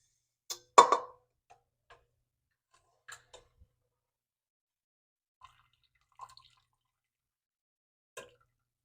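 Whey drips through cheesecloth in a colander into a pot while making farmers cheese from fresh goat milk, a few sparse, faint drops and small splashes spaced irregularly in near silence.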